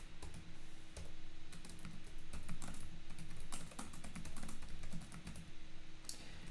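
Code being typed on a computer keyboard: rapid, irregular key clicks in quick bursts with short pauses, close and fairly quiet, with no voices.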